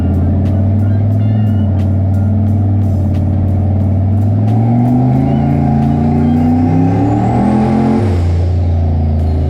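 Turbocharged Chevy Chevelle engine roaring on a dyno, a loud sustained drone that climbs steadily in pitch as the revs build, with a rising turbo whine near the end before the engine drops off sharply.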